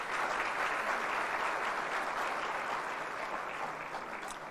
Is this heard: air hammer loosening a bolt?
no